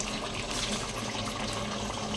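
Water pours steadily into a large pot holding 1 kg of Sona Masuri rice and 1 kg of chicken for biryani, a close, continuous gushing fill with no talk.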